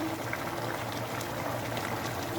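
Cooking oil poured into a karahi holding chicken makhni, giving a steady bubbling, hissing sizzle that stays close and constant throughout.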